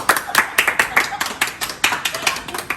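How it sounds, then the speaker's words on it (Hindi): Close, rhythmic hand clapping by a small group, steady repeated claps at a brisk regular beat lasting a few seconds, with no talk over them. "तालियां बजाते रहिए"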